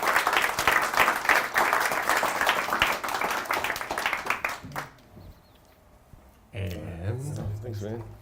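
Audience applause at the close of a talk at a developer meetup, dense clapping for about five seconds before fading, then a voice speaking over light room noise.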